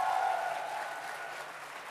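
Audience applause fills a large hall at an Atomy corporate event, a dense, steady wash of many hands clapping that eases slightly in loudness over two seconds.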